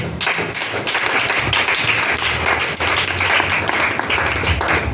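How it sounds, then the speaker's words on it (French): A church congregation claps and applauds during a sermon in a steady, dense wash of clapping with low thumps that holds loud and even for the whole stretch. "Acclamons le Seigneur."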